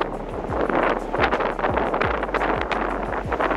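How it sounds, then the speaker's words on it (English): Strong wind buffets the microphone on a steep mountain trail, a constant loud roar with repeated low gusty thumps throughout, no voices. "You can tell how windy it is."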